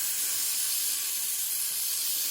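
Cleaning agent sprayed onto a Kawasaki Ninja 400 motorcycle chain, heard as a steady, close hiss that lasts the whole moment without pause and with no talk.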